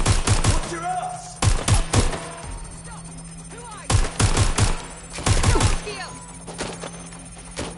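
Gunfire from the video game Watch Dogs Legion: sharp bursts of shots in several clusters over a steady low hum, close and loud, with people speaking in between.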